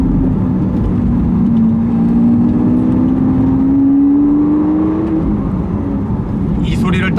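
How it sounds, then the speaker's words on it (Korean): A Lamborghini Aventador S with a V12 engine drones loudly at a sustained rising pitch while accelerating, heard continuously from inside or close by. "12기통의 아벤 S만 가지는 람보르기니의 황소의 울음을 가지고 있는"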